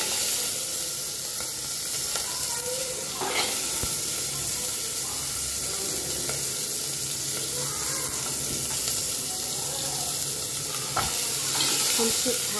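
Sambar onions frying in a pan, a steady close sizzle and hiss running throughout with occasional stirring scrapes and clicks, no talk.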